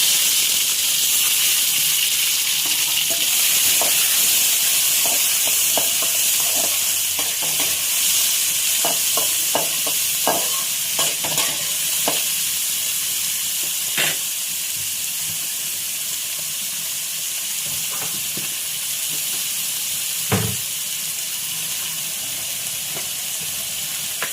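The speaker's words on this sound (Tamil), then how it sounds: "இப்போ வெங்காயம், பச்சை மிளகாய் போடுவோம்" Chopped onion and green chili fry in a pan of hot oil for poha, giving a steady, close hissing sizzle with scattered scraping and clicking from stirring throughout.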